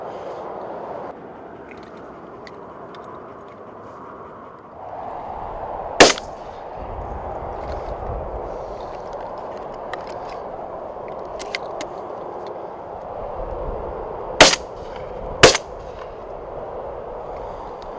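Three sharp, loud shotgun reports ring out during pigeon shooting in open country, one around six seconds in and a close pair near the end, over a steady low rumble of wind or distant traffic.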